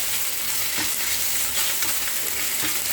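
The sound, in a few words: pork tenderloin shallow frying in a pan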